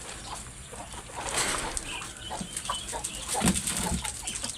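Chickens and an old rooster cluck and chatter close by in a farmyard waiting for feed, irregular overlapping clucks and squawks with some rustling movement.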